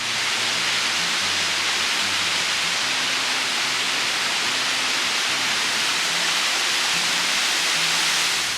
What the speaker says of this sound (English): Garden Creek Waterfall was lovely.